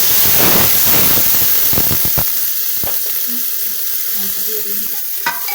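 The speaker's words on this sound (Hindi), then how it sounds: "एबे देखो पियाज भाजी ही गलानी" Onions frying in hot oil with caramelised sugar and whole spices, a loud close sizzle with stirring scrapes and clinks that eases into a quieter hiss, and no one speaking.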